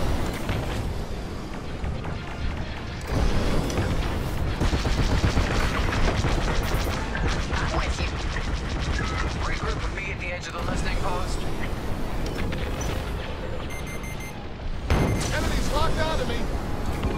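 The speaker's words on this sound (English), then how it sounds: "I'm under fire. They're shooting." Starfighter combat in Star Wars: Squadrons roars continuously, with laser cannon fire, engine noise and explosive booms layered densely throughout, while voices chatter over the battle.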